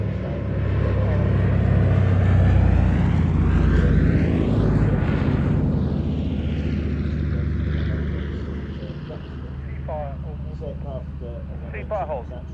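A propeller aircraft taxis at the Fly Navy airshow at Shuttleworth, a loud droning engine with Doppler-like sweeping tones that eases off, while a voice talks over it.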